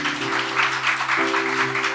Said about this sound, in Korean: 우리 인사하실 때 힘차게 박수하겠습니다